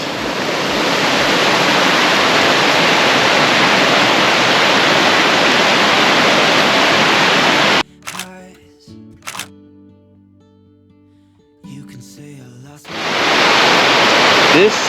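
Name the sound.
waterfall with water flowing over moss at Devils Tower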